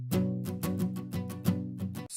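Guitar strumming from an Ample Sound virtual instrument with lowered upstroke velocities gives a steady rhythm of full chords, alternating strong downstrokes with softer upstrokes, clean and alone.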